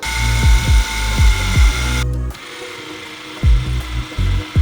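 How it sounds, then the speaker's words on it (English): Close, loud whine of an electric drill boring keyholes for a pressure washer wall mount in several short bursts, with brief pauses and a sudden cut to quieter background. "So now I'm gonna drill the keyholes."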